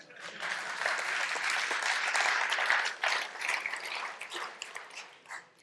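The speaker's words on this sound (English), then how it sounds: "You may clap now while I sip my water." Audience at a CSS web-development conference bursts into applause, a dense, steady clapping that holds for a few seconds and then thins out into scattered claps toward the end.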